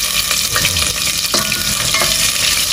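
Onions fry loudly in hot oil for a shrimp dish, filling the clip with a dense, continuous crackling sizzle broken by a few stirring knocks, close up and with no talking.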